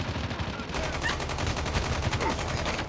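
Rapid automatic gunfire rattles continuously in the mobile shooter game Call of Duty Mobile, dense and fairly loud, with faint game effects in the background.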